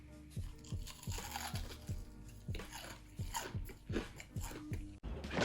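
Big crunchy bites into double-fried chicken tenders coated in barbecue sauce, made as a homemade KFC Nashville hot copy, with loud close-up crunching and chewing in a repeated, steady rhythm.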